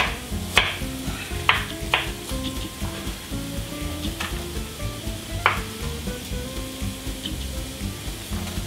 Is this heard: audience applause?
no